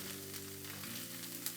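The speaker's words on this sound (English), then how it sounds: "We're gonna fry it for a little bit." Sliced white onion frying in a pan for tinga, a faint, steady sizzle with a low background hum throughout.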